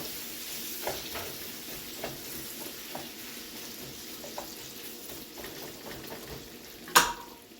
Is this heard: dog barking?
no